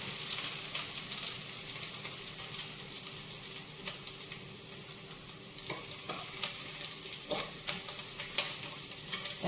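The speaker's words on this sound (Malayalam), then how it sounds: "വെളുത്തുള്ളി ചെറുതായിട്ട് അരിഞ്ഞത് അതിട്ടു. ഇത് നമുക്ക് ചെറുതായിട്ട് ഇതൊന്ന് ഇളക്കാം." Finely chopped garlic frying in a pan with a steady broadband sizzle, stirred now and then with a few scraping clicks of the spoon against the pan; fairly close, no voices.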